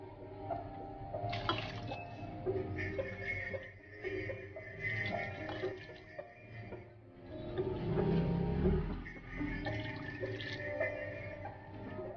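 Water is poured into a cooking pot to make coconut rice, a soft, faint trickling and splashing mixed with light clinks of kitchenware.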